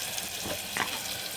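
Curry leaves sizzling in hot oil, a brief steady crackle with one small sharper spit partway through, close and fairly quiet.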